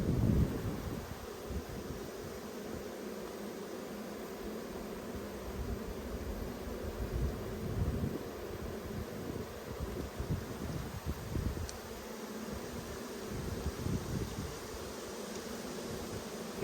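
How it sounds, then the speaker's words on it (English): Steady wind buffets the microphone at an outdoor beehive inspection with a low rumble and soft rustling throughout, with no one speaking. "It's a bit windy today"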